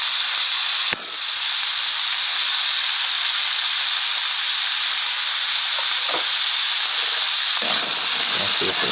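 Fish curry with large katla fish pieces, ol kopi and brinjal sizzles loudly and steadily in a pan as turmeric powder and ginger paste are stirred in, with a brief knock near the start and faint scraping later.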